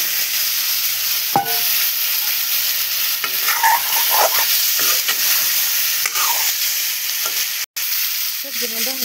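Potatoes and cauliflower fry in chili masala with a loud, steady sizzle. Close stirring scrapes and clinks cut through it, and a sharp clatter comes near the end.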